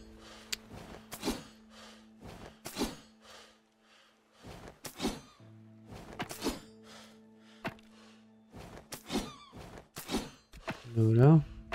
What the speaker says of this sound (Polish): Porąbię zaraz wszystko w koło.